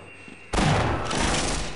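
A single loud shotgun blast in Half-Life, striking abruptly after a quiet moment and ringing out with a dense, sustained tail, no talk.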